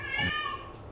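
A cat in heat lets out a single short, loud, nasal meow, rising and then falling away.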